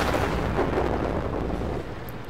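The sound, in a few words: 152mm tank cannon firing, from video game World of Tanks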